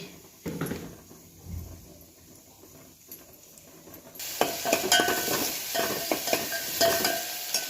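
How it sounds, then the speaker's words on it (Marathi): Cumin hisses in hot oil as a tempering for a raw mango koshimbir. Quiet, sparse stirring gives way midway to a sudden loud, dense sizzle that crackles on to the end. "आता त्याला छान अशी तेलाची फोडणी द्यायची"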